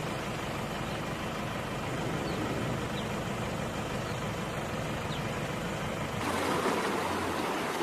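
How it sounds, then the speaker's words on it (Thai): Floodwater from the overflowing Yom River rushes through a village in Phichit province, a continuous broadband roar of flowing water that swells slightly louder toward the end. "น้ำจากแม่น้ำยม เอ่อล้นเข้าหมู่บ้านนะครับ"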